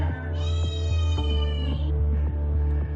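White cats meow repeatedly over a steady low hum, one long drawn-out call standing out among several shorter ones, loud and close.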